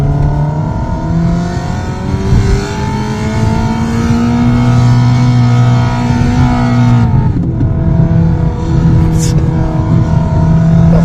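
A car engine revs loudly nearby, its pitch rising and holding in sustained roaring tones, dropping briefly before climbing again.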